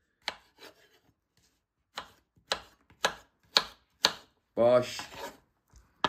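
A knife cuts cucumber on a board during South African braai cooking: about eight crisp, evenly spaced chops, close and clear, with one short spoken word near the end.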